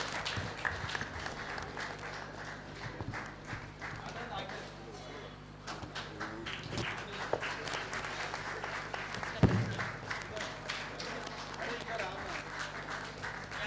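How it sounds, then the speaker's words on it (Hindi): Crowd clapping at an Agrasen Jayanti 2023 gathering around a book release: scattered, sustained hand claps that swell and fade, mixed with voices and a low hum in a hall. "बजती रहे तालियां जोरदार।"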